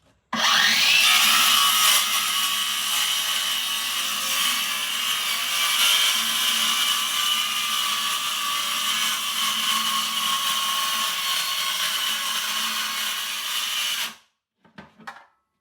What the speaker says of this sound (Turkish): 60 santimden şöyle keseceğiz